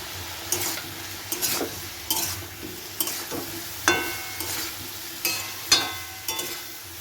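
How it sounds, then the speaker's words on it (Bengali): Spices and ginger are sautéed in a pan for khichuri, giving a low continuous sizzle under regular scraping stirs of a spoon against the pan, about eight strokes, close and clear. "ওদিকে খিচুড়ির জন্য সেই মশলাগুলো তো কষাচ্ছে"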